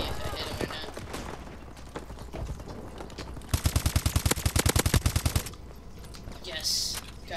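Rapid automatic gunfire from Call of Duty Advanced Warfare multiplayer, a loud burst of evenly spaced shots lasting about two seconds amid other game sounds, with someone talking over much of it.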